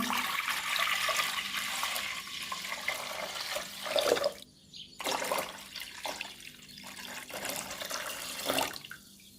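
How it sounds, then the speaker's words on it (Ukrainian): Water gushing and splashing steadily into a pot for a tomato marinade, with brief pauses and clinks as the flow stops and restarts. "У горниць виливаю воду."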